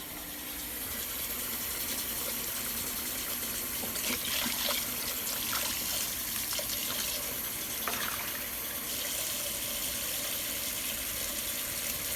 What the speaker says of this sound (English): So I'm going to fill this with water, about 3/4.